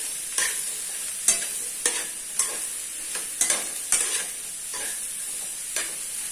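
Ridge gourd pieces stirred in a hot pan with a spoon, a series of about nine distinct scraping strokes at a steady, unhurried rhythm, close and clear, with no talking.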